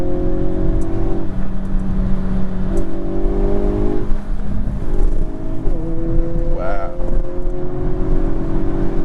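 A 2022 Hyundai Kona N engine pulls hard under acceleration, a loud, steady drone heard from inside the car that shifts in pitch as it revs and changes gear.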